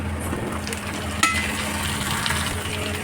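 Chopped onion and dhundul (sponge gourd) fry in mustard oil with cumin, dried chilli and bay leaf, making a loud continuous sizzle broken by stirring scrapes and one sharp utensil clink.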